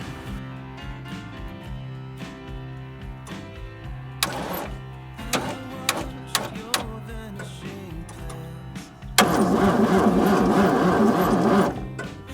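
Starter cranking a 1973 Toyota Land Cruiser FJ55 engine with a dirty intake, just fitted with a battery: a steady low mechanical whir with scattered clicks, then a louder, rougher burst of churning for a few seconds near the end.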